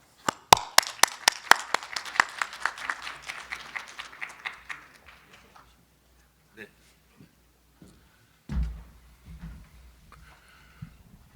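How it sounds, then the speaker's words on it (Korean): A conference audience gives a speaker a welcoming round of applause, starting as sharp, separate claps that blend briefly into a fuller patter and fade within a few seconds. Scattered small noises and a short voice follow. "큰 박수로 맞이해 주시기 바랍니다"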